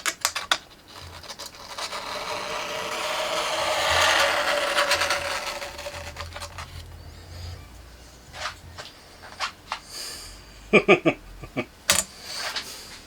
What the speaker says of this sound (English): Grate the top layer off now.